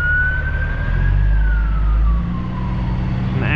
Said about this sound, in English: An ambulance of sorts.